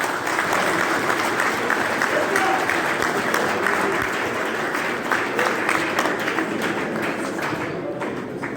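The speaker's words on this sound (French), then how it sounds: "Je vous demande de l'applaudir très fort." Dinner audience of Grand Kasaï notables applauding loudly for the Congolese president, sustained dense clapping from a large crowd that continues throughout and thins slightly toward the end.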